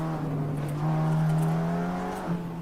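A Porsche race car engine in a Nordschleife racing game drones steadily and loudly, its pitch rising slightly through a long pull before dipping briefly near the end, with no talk over it.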